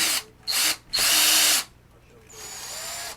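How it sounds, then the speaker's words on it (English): A step drill bores a hole during a model-building session for a Star Wars shuttle Tydirium kit, with three loud whining bursts of drilling separated by short pauses, then a quieter, steadier whir near the end. "We'll use one of my step drills to"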